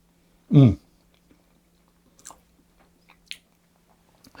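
Someone close by bites into a pistachio white chocolate blondie that is dry at the edge and moist in the centre. One loud, crisp bite is followed by a few faint, scattered chewing sounds.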